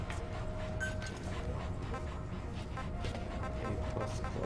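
A dog in the video game Metal Gear Solid V: The Phantom Pain, giving short yips, whimpers and barks over a steady game soundscape with a faint tonal hum.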